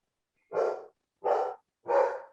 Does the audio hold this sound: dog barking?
yes